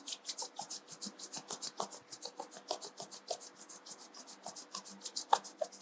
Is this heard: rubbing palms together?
yes